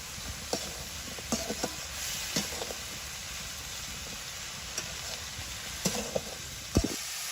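Yardlong beans are sautéed with salt and turmeric in a pan, a faint, steady sizzle with scattered light stirring taps, with no talking.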